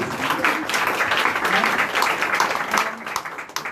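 A forum audience of young entrepreneurs claps in a sustained, uneven round that swells and thins over a few seconds, with individual hand claps standing out near the end.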